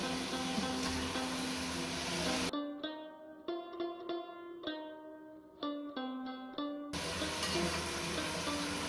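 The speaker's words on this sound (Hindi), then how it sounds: "गोश्त को अच्छे से हमने भून लिया है।" Beef and tomatoes fry in a pot for beef yakhni pulao with a loud, dense sizzle at the start and end. The middle is broken by a run of ringing, tonal clinks.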